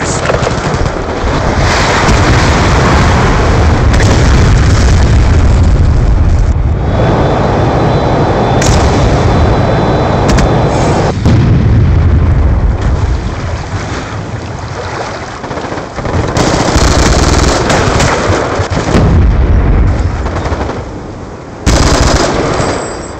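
Hellstorm missile strike in a video game, with dense rattling bursts of gunfire and heavy booming blasts over a roaring, wind-like rumble, loud and continuous, with brief drops and fresh impacts toward the end.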